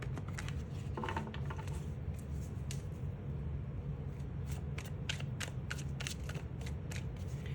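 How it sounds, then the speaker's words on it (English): Tarot cards are shuffled by hand in a steady run of soft riffling flicks and taps, close and continuous over a low room hum, with no talking. "Let's get some tarot cards out to see what might be happening."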